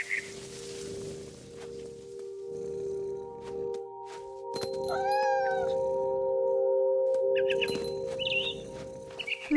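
A cat gives a drawn-out rising meow midway in What Remains of Edith Finch, close and clear over a held musical drone, with a few bird chirps near the end.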